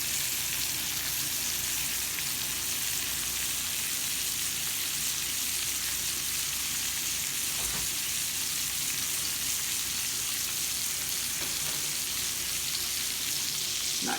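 Potatoes frying in a pan, a steady, dense hiss and crackle of sizzling oil that runs continuously and loud throughout, with no talking.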